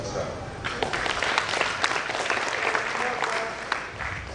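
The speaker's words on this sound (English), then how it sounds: "More clap for the DBC Academic" Audience applause at a prize giving ceremony, a large crowd clapping continuously at a steady, dense level for several seconds, heard from within the hall without speech over it.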